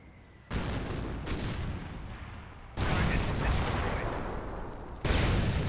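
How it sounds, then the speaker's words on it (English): An artillery barrage in Company of Heroes 1 arrives as three long, loud waves of rumbling blasts, each starting abruptly and roaring broadly before the next begins. "Wolfram barrage running on in"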